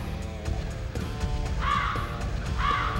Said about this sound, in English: So that's the crow sound I was talking about.